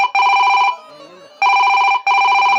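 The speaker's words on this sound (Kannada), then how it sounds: "ಫೋನ್ ಬರಕೈತಿ ತಮ್ಮ, ಫೋನ್ ಬರಕೈತಿ." A telephone rings loudly and close, three electronic trilling bursts separated by short gaps.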